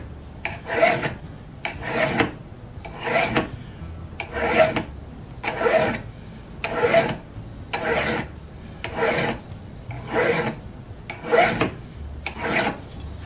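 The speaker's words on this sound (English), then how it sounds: "It's only going to take just a little bit of filing." Rhythmic rasping strokes of a file on a Jennings auger drill bit, about ten evenly spaced passes with brief pauses between, close and clear.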